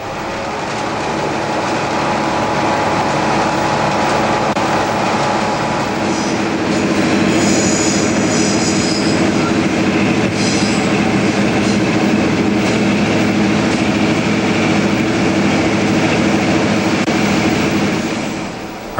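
A Newfoundland Railway train runs on the track across the Avalon Peninsula, giving a loud, continuous rolling roar with clickety-clack and brief high wheel squeals, heard up close without voices.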